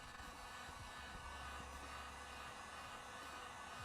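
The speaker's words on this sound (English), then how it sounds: "I'm going to take a heat gun, hold it back far apart" A heat gun is held well back to dry airbrushed paint on a 3D-printed Darth Vader can cozy, giving a continuous, even whooshing blow of air throughout.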